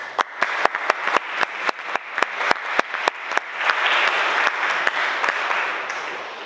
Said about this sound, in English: give them a round of applause anyway